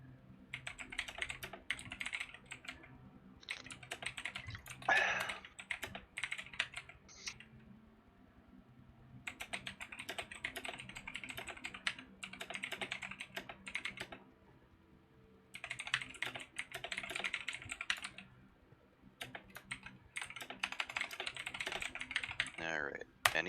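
Computer keyboard typing in rapid bursts with short pauses between them, close and fairly quiet, with faint background noise and no voices.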